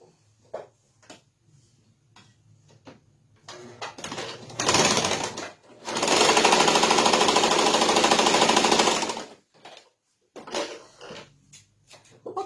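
A sewing machine stitching fabric pieces for a Tilda sheep doll, with a short whirring burst and then a longer steady run of about three seconds, surrounded by scattered clicks and handling knocks.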